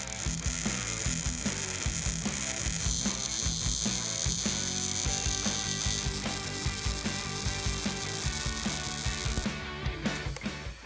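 Welding a motor mount in place on a 1994 Ford: a steady, dense crackle and sizzle with rapid rhythmic ticks runs close and loud for about eleven seconds.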